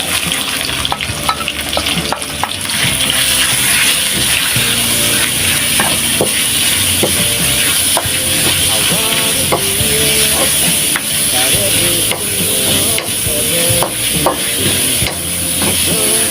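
Minced pork stir-fries in a hot pan with mixed vegetables, giving a steady loud sizzle and hiss, with spatula scrapes and stirring knocks throughout.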